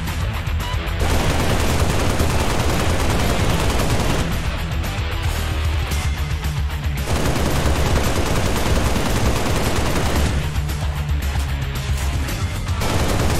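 Assault rifle in Halo Reach firing long sustained full-auto bursts at roughly 590 rounds per minute, loud and dense, with short pauses between three extended strings of fire.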